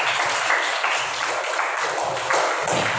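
A group claps together in sustained applause during a classroom teaching-practice lesson, a dense, even patter of hands that stays loud and steady for the whole stretch, with no one speaking over it.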